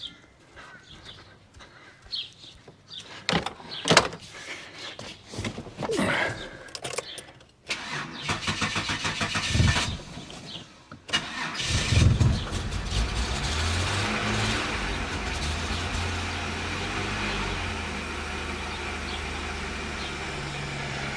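An old boat engine running on a weak battery cranks in uneven bursts, catches, and settles into a steady, slightly rough idle that continues for the rest of the clip, with birds faint in the background.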